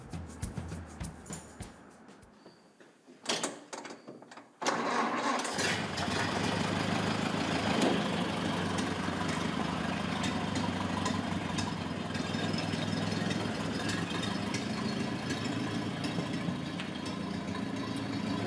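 A 1929 Ford Model A Roadster engine idles close by, a steady, continuous low rumble that starts after a few seconds of quieter handling noise and holds evenly to the end.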